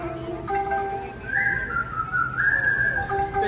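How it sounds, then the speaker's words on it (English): A barbershop quartet, the Dapper Dans, whistles a bright sustained melody together in close harmony at Main Street Station in the Magic Kingdom at Walt Disney World, the tune carrying steadily over faint crowd ambience. "Please take note of how they whistle while they work."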